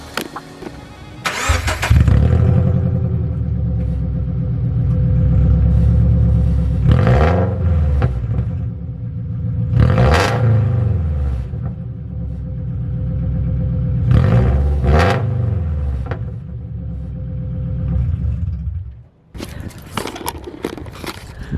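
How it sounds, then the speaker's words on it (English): A Toyota 86, Subaru BRZ or Scion FR-S sports car engine cranks and starts, then roars through several loud revs with a deep, booming exhaust, dropping back to idle between blips before cutting out. "Let me just start the car up and give you guys a few revs."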